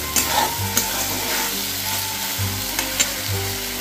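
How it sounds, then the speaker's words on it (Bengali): Palak paneer mixture being stirred in a pan, a steady close sizzle broken by a few scraping spoon strokes against the metal, with no talking. "ভালোভাবে আবারও এটা মিশিয়ে নিচ্ছি, ভালোভাবে এটা নেড়ে নিচ্ছি একবার"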